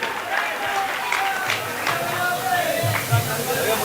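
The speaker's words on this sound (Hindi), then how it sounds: "तालियां बजाओ दोस्तों" An audience at a mushaira poetry gathering in Malegaon breaking into applause and cheers, a moderate patter of clapping with crowd murmur and a voice over it.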